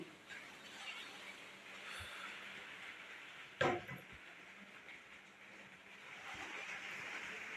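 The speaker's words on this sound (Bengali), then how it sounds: "কিরকম যে বাতাস হইতেছে আল্লাহ" Strong wind in a rainstorm makes a steady, faint rushing hiss throughout, broken by a single sharp knock midway, with no talking.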